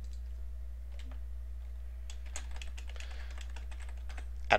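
A post title is typed on a computer keyboard in the WordPress backend, producing quick, light key clicks in uneven bursts over a steady low electrical hum. One sharper tap comes at the end, and no one speaks.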